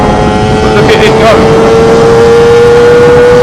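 Lambretta Targa Twin 275cc piston-ported two-stroke scooter engine, heard on a road test, held at high revs in a loud, steady buzzing drone with a slowly rising tone and rushing wind noise, very close.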